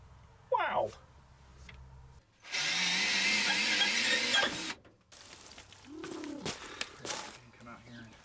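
An electric lift on a conversion van runs with a loud, steady motor whine for about two seconds, close by, between stretches of voices talking.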